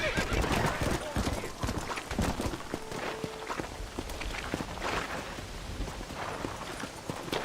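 Horse hooves clip-clop steadily alongside a whinny in Red Dead Redemption, the rapid hoofbeats close and busy under intermittent speech.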